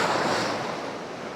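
Rough sea waves surging continuously against a stony shore, a loud broad wash of surf with wind buffeting the microphone; the clattering of stones is not clearly separable within the roar.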